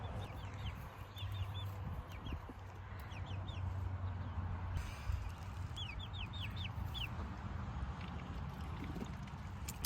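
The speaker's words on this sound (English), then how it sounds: "I put my chickens outside." Chickens cluck and chirp in short repeated bursts against a steady low outdoor hum, fairly faint and somewhat distant.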